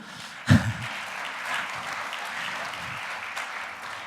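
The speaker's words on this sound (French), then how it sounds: "Monsieur Hugues Puel, que je vous demande d'applaudir et d'encourager" A conference audience breaks into steady applause after a sharp opening burst, the clapping holding at an even level for several seconds.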